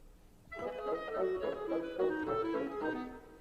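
In Holst's The Planets, a clarinet line in 6/8 plays against bassoons in 3/4, two interlocking rhythms layered in a busy, sustained woodwind passage, moderately loud and with no talking.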